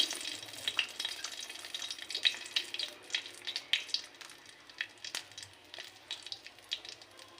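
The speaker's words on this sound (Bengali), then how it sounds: "এবার এই তেলের মধ্যেই আমি দিয়ে দেব গরম মশলা ফোড়ন আঁচটাকে একদম ধিমি করে" Whole garam masala spices, including cardamom, frying in hot oil over very low heat for a tomato fish dish, giving a close, crackling sizzle with irregular pops and stirring scrapes.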